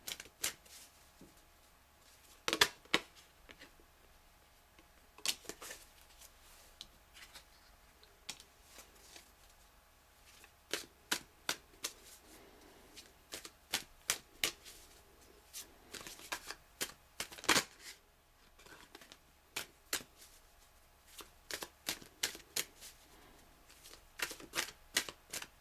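Tarot cards being shuffled in a quiet room, crisp riffling bursts and soft slaps coming in irregular clusters, close and alone with no voices.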